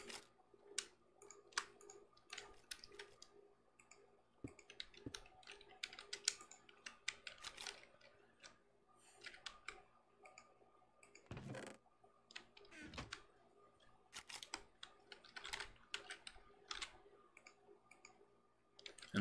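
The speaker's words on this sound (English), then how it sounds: "And that'll just be clicking away, making us plates in the background." A video game machine producing plates keeps up a steady, faint stream of rapid mechanical clicks and ticks in the background, continuous and irregular, with no talking.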